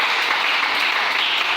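Sustained crowd applause from a church audience acclaiming the Lord, a dense steady clatter of clapping hands with no pauses, fairly close and loud throughout.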